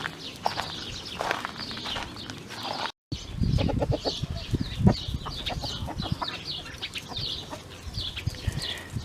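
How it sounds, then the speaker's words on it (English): Chickens cluck and squawk busily outdoors in a food forest as they are turned loose, a steady flock chatter with scattered louder calls close by. "I'm getting ready to turn them chickens loose."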